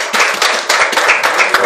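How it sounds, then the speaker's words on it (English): A church congregation claps hands together during a Sunday morning service, a dense, loud run of overlapping claps with small rhythmic surges, no talking. "Give the Lord a hand clap"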